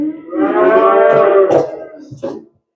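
Weaned calves give one long, loud moo up close, followed by a shorter low call that trails off into silence.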